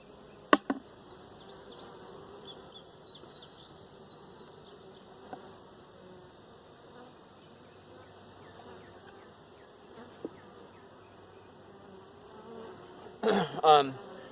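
Honey bees buzz in a steady, low drone throughout while queens are caged, with a few sharp clicks and a brief louder burst of noise near the end.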